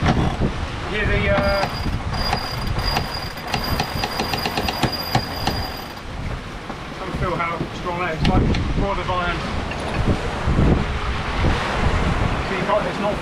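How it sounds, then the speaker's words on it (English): Strong wind and rushing waves along the hull of a sailboat sailing near the Egadi island of Marettimo in 16 knots of wind with one reef in the main, a loud steady roar that continues throughout. "So we've got 16 knots of wind, one reef in the main,"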